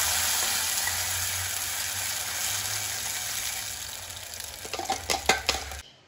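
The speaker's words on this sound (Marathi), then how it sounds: "तेल गरम झाल्यानंतर यामध्ये जे आहे ना टोमॅटो प्युरी टाकायची." Tomato puree hitting hot oil in a kadhai on a lowered gas flame, a steady broadband sizzle with stirring and a few clinks of a utensil against the pan near the end.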